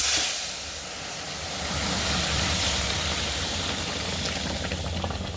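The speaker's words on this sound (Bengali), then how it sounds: "ডালে না ডাক ডাক উঠবে যখন এই তেল সম্বারটা দেবে" Hot oil tempering poured into a pot of dal gives a steady, loud broadband sizzling hiss that swells and holds for several seconds, close up with no talking.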